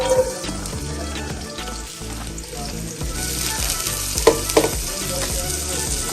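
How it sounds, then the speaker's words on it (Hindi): Chopped onion sizzles steadily in hot ghee in a pan while pasta is being made, a close, continuous frying hiss with occasional stirring scrapes and louder crackles. "हम लोग ऐड करने लगे हैं यहाँ पे प्याज।"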